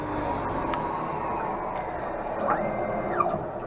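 An optical lens edger grinds a safety bevel onto an eyeglass lens, a steady close mechanical whir with faint shifting high tones sweeping across it, constant in level throughout.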